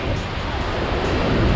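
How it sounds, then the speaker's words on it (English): Constant roaring rush of the huge Iguazu Falls waterfall, a loud, dense wash of falling water filling the whole stretch without pause. "Big waterfall behind us."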